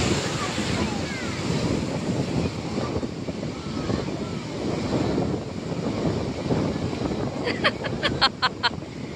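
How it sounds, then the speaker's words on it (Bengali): Ocean waves break on the beach in several rolling lines, producing a loud, continuous roar and wash up close with buffeting wind on the microphone and a few sharp clicks near the end. "4টে লেয়ারে ঢেউ আছে, প্রচুর ঢেউ আছে এখন,"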